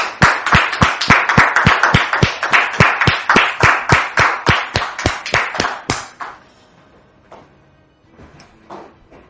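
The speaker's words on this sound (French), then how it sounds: "sous vos applaudissements, s'il vous plaît." A studio audience on a French-language talk show claps in unison, giving a steady, rhythmic beat of loud, sharp claps for about six seconds before stopping, then faint room sounds remain.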